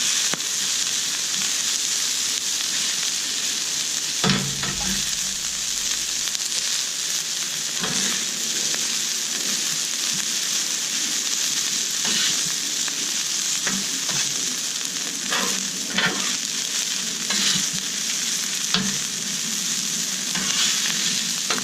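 Beef and bacon fried rice sizzles loudly in a hot pan as it is tossed and stirred, a constant frying hiss broken by scraping and clattering stirs, with no voices heard.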